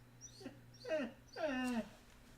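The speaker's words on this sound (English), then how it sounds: "That's my dog." A dog whimpers for attention in a few rising, whiny cries, the last one longest, fairly close but soft over a low room hum.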